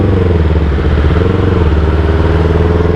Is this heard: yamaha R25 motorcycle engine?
yes